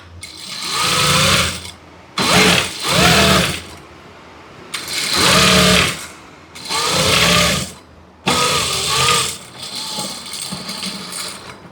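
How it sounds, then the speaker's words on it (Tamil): Sewing machine stitching a chudithar seam in repeated bursts of rapid motor-driven stitching, separated by short pauses, loud and close. "அதுக்கப்புறம் ஒரு 1/4 இன்ச்சு கேப்பில் தைக்கிறேன்."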